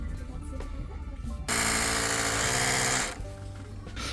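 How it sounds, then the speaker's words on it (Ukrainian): An Oral-B electric toothbrush switches on with a high, buzzing electric whine that runs steadily for about a second and a half, then cuts out, leaving quieter background noise. "Oral-B ось така зубна щітка електрична."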